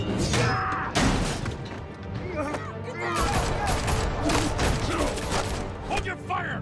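Chaotic gunfire and crashing impacts in Batman: The Telltale Series, dense overlapping shots and clattering hits running continuously, with shouting voices mixed in.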